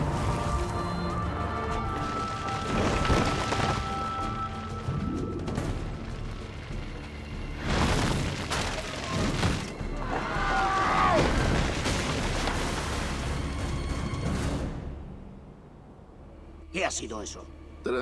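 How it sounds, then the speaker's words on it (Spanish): Firecrackers pop and boom in bursts in Assassin's Creed II, several sharp cracks scattered across the stretch over background game sound, with someone speaking at times. "eran críos jugando con petardos"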